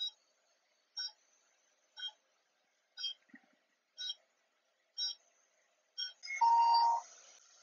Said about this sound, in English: when it makes that sound, that we know that the timer is clocked out